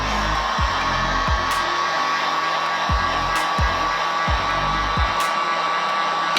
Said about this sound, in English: I'm going to use the heat gun and dry this